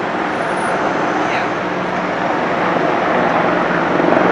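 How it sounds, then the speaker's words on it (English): Helicopters fly in formation overhead, droning in a steady, heavy roar that stays loud and constant throughout, swelling slightly toward the end, above a major fire in Montreal's Chinatown district. "Why are there helicopters flying in formation?"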